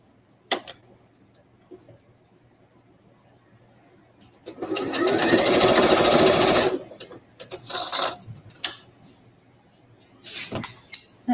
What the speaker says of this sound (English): It's probably best to sew these together first.